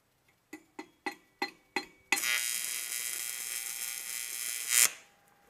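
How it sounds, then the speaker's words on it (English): SMAW stick welding a tack on a tube, opening with five short, evenly spaced crackling strikes, then a steady buzzing, sizzling arc for nearly three seconds that ends with a brief louder crackle and cuts off, close and alone. "Going to get 2 more tacks and weld it out."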